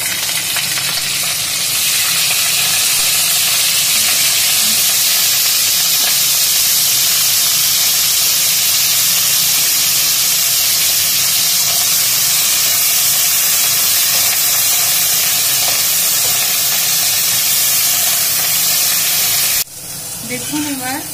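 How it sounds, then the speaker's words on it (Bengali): Broccoli fries lightly in mustard oil in a wok with a steady, loud sizzle and hiss that holds without a break for about twenty seconds, with no talking over it. "তারপর আমি ব্রোকলিগুলোকে হালকা ভেজে নেব"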